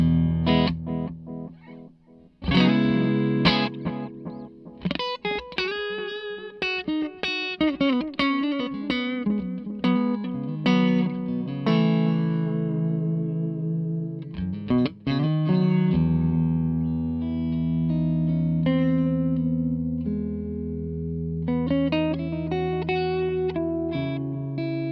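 Electric guitar through a Zander Circuitry Tape Deck pedal with its delay engaged, all controls at noon; close, loud melodic lines and chords with echoing repeats trailing each phrase, played without any talking.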